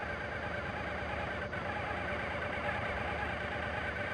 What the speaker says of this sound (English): If necessary, use the idle screw to set the idle speed. On the TL, it's 1200 RPM.